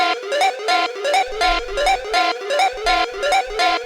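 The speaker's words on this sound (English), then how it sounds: "Right, you can hear there's a lot of energy just in the synths." Two schranz-style techno synths playing together in a driving, evenly pulsing pattern of bright, buzzy stabs, joined partway through by a deep low thump, loud and alone.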